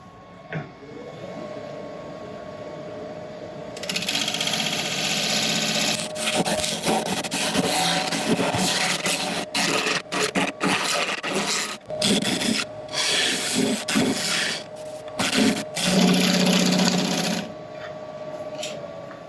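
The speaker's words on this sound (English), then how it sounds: "I'll use the scraper also just to sort out the tool marks in the bottom" A scraper on a lathe scrapes against spinning yew wood in a continuous rasping hiss, broken by short pauses, close and fairly loud over a motor hum.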